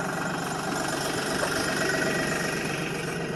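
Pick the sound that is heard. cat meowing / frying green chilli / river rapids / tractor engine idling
tractor engine idling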